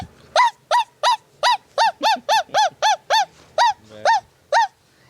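A human voice imitates a puppy barking: about a dozen sharp, high, nasal yelps in a quick, fairly even series, close and loud with nothing else around them.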